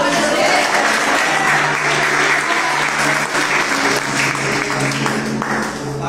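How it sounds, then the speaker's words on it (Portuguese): Loud, continuous congregational clapping fills a church deliverance service, a thick roar of hands with a faint low hum of music or crowd beneath it. "Aplauda o Senhor."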